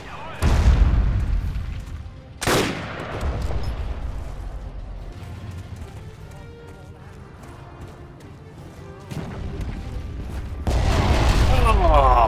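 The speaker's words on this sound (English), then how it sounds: "Booby trap." A booby trap explosion in the World War II shooter Forgotten Hope 2 during a multiplayer battle, heavy booms and a sharp blast among distant gunfire and rumbling, with a voice talking at times.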